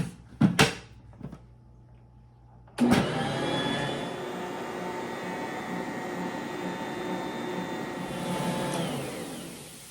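After a few clicks and knocks, a stand mixer starts up on low to knead soft yeast dinner roll dough and runs with a steady close motor whir for about six seconds before winding down.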